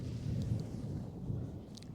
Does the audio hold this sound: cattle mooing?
no